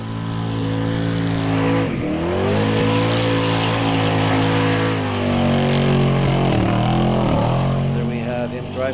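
An Icelandic Formula Offroad race car powers through the swamp at the Hella track. Its loud engine holds high revs, briefly dips on shifts, then surges again, and a distant commentator can be heard talking under the roar.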